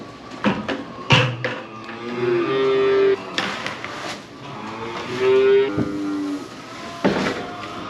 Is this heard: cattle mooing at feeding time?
yes